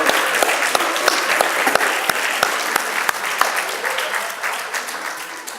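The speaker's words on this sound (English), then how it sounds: "Let's give him another round of applause." An audience at a university alumni association's annual scholarship banquet applauds a speaker. Individual sharp claps stand out within the lively clapping, which gradually thins toward the end.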